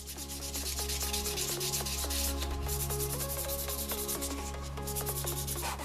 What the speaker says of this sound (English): Then I'll clean up the ends on the belt sander